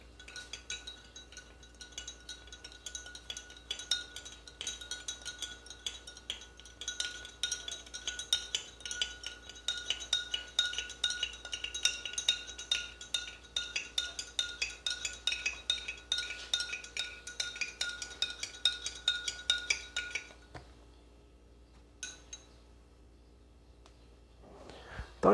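Spoon stirring salt in a glass of water during a classroom demonstration, a long run of rapid, bright clinks of metal against glass, steady and close, then stopping near the end with a few isolated taps.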